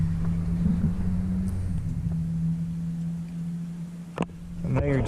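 A 1966 car with Stainless Works long-tube headers idles with a deep, steady exhaust rumble close by, then gives a sharp blip and a brief rev near the end.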